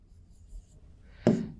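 Marker or chalk strokes on a board during a class 11 calculus lesson, a quiet stretch followed by one firm scratchy stroke and a second short one at the end, close and fairly loud, with no talking.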